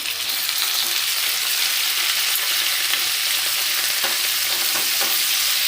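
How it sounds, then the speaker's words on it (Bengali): Ginger and garlic fry in hot oil for chilli chicken, a steady loud sizzle with occasional stirring scrapes, no voices. "এই যে আমি চিলি চিকেনের জন্য এখন আদা রসুনগুলো একটু ফ্রাই করে নিচ্ছি"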